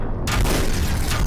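Gunfire in the volcano-drilling video game Volcanoids: a loud, dense burst of booming shots that starts abruptly and rumbles on continuously without a break.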